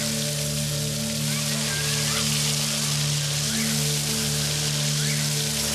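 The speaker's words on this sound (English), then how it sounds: "Whoa, it's starting to rain." Rain falls inside an indoor zoo exhibit as a steady, even hiss of drops on surfaces over a low constant hum, with no break for the whole stretch.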